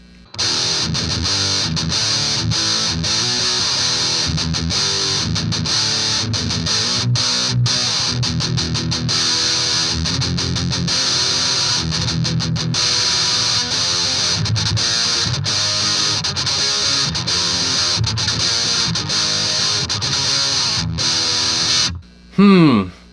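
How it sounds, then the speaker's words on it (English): A heavily distorted electric guitar through a DOD Grunge pedal and Crate 15-watt amp plays steady, thick chords with a gritty fuzz tone, continuing for a long stretch before stopping abruptly near the end. "let's engage the grunge pedal here"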